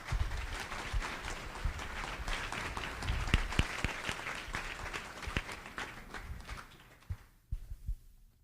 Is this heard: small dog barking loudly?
no